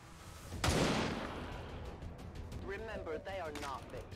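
A single loud, booming gunshot blast erupts in the XCOM 2: War of the Chosen video game and rings out as it decays, followed by a voice talking.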